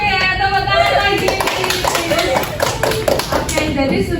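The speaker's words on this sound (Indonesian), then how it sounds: "Oke, tepuk tangan lagi." Children in a classroom break into another round of hand clapping, steady and close for several seconds, with voices heard underneath.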